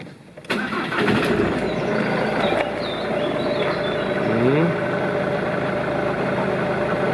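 A car engine cranks briefly and catches, then settles into a steady, close idle that runs on evenly, with a voice briefly heard near the start.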